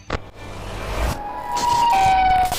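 A Siren Head monster siren wails at moderate distance, its steady high tone rising and dipping over a low rumbling background.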